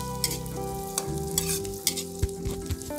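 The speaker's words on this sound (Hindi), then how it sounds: "इसी से हम प्याज वगैरह और अपना जो मिर्चें वगैरह डाली हुई हैं तड़के के बीच में" A spatula stirs onions and chilies in a hot kadhai of tempering oil for a traditional Pahari saag, the steady sizzle broken by repeated scraping strokes, close and fairly loud with no voices.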